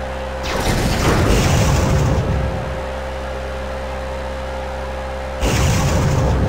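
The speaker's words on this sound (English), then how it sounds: "Wow, what a collision!" Video game vehicle collision in WWE Crush Hour: a loud engine roar and crash noise burst in, drop to a lower rumbling hum, then a second loud burst near the end.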